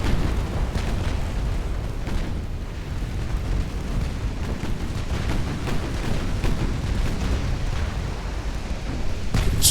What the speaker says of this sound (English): Also landing a couple torpedoes.